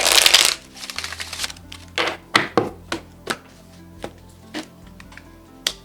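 Oracle cards are shuffled by hand: a burst of riffling at the start, then a series of separate sharp card slaps and taps in an uneven rhythm, close and fairly loud with no talking.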